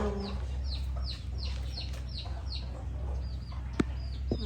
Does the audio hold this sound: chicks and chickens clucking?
yes